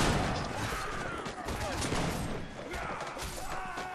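Gunfire in a multiplayer shooter during a team event night, a dense run of shots and mechanical clatter that carries on steadily under voices talking.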